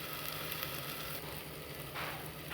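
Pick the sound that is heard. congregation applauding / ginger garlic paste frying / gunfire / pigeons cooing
ginger garlic paste frying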